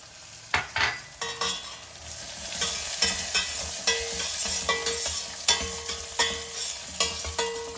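Spices fry in a pan for Madras rasam before dried red chillies go in, giving a steady sizzle broken by sharp scrapes and clinks of a spoon stirring, close and fairly loud with no talk.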